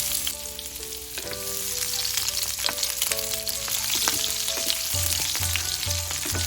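Cumin seeds and a small onion fry in a spoonful of hot oil in a pan, giving a steady close sizzle with crackling bursts and a few clinks of stirring, with no voices.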